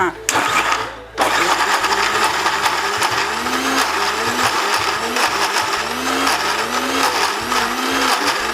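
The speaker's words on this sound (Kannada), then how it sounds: "ಈಗ ಮಿಕ್ಸಿ ಕೊಡಿ ರುಬ್ಕೊಳ್ಳೋಣ ಈಗ ಅಷ್ಟು ಒಂದೇ ಸಲ ಹಾಕ್ಕೊಂಡು ರುಬ್ಕೊಳ್ಳೋಣ" A kitchen mixer grinder whirs loudly and steadily while grinding holige (obbattu) filling, its motor pitch rising and dipping in repeated pulses after a short start, with a voice faintly heard under the noise.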